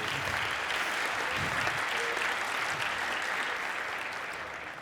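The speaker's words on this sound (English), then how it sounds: "thank you for the applause" A packed audience at the 39C3 hacker congress applauds a talk, a thick, continuous roar of clapping that stays loud and then gradually tapers off near the end.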